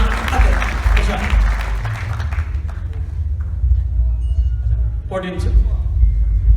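An audience at a Hindi poetry recital gives loud applause welcoming the poet Prashant Agrawal to the stage, a close, dense clatter for about five seconds before a voice briefly cuts in.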